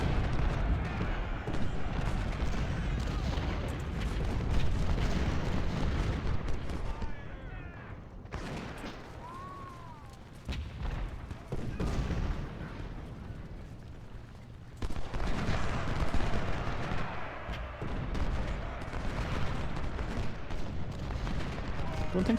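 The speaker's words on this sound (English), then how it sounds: "Enemy guns are just ripping us to pieces." Enemy cannon and rifle fire in the video game Ultimate General: Civil War, during the Battle of Malvern Hill. Dense booms and crackling volleys roll on continuously, ease off briefly in the middle, then build again, with occasional voices mixed in.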